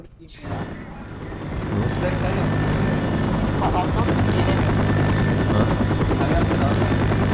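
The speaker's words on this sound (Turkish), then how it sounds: "Helikopter ne abi?" A helicopter in the video game Left 4 Dead 2, No Mercy campaign, thrums loudly, swelling over the first two seconds into a steady, continuous rotor roar.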